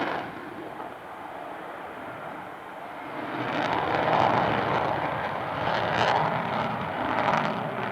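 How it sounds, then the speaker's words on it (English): An F-14B Super Tomcat fighter jet roars overhead at an airshow, its engine noise swelling from a distant rumble to a loud, sustained roar that peaks and then holds. "the Tomcat will enter a climb to nearly 2 miles overhead"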